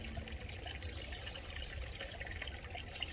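Stream water on a hiking trail being collected, a faint continuous trickle and gurgle with small splashes, steady and close, no talk.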